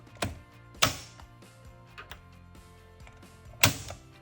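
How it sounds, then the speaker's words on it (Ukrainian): ETIBREAK NBS molded-case circuit breaker being switched to its trip position, giving sharp mechanical clicks and clacks: one near 0.2 s, a loud snap at 0.8 s and another strong clack near 3.6 s, with faint rattles between. "для встановлення даних аксесуарів е, переводимо вимикач в положення дріб"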